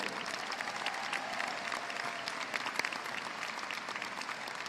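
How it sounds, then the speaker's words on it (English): An audience at a high school graduation ceremony claps steadily for several seconds, a dense, even wash of applause with no voices standing out. "Let's give them a round of applause to show our deepest gratitude."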